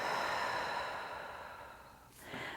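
A long, deep exhale during a yoga breathing practice, breath released slowly and steadily, close and fairly loud, with no talking over it.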